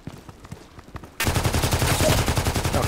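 Gunshots from a revolver in the video game Contract Wars, starting abruptly after a quiet stretch of faint clicks and then firing rapidly in a loud, repeated rhythm.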